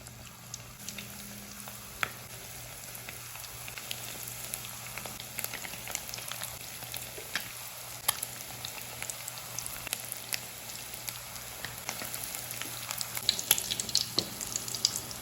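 Egg 65 pieces fry in hot oil, a continuous crackling sizzle with scattered pops throughout, steady and moderately close, with no talk.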